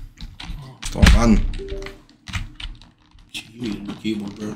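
Rapid clattering computer keyboard keystrokes, loud and close, in irregular bursts with heavy thumps, while a person talks over them.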